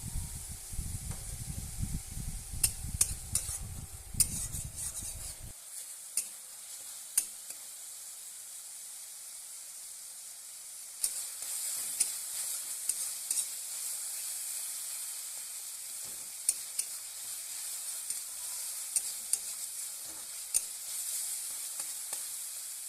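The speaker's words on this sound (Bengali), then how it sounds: "মশলাটা একটু ভালো করে কষিয়ে নেব" Spice masala stir-fries in a pan for a rui fish and bottle gourd curry. A low rumbling crackle with stirring clicks fills the first five seconds, then a thin, steady hiss continues with scattered faint ticks.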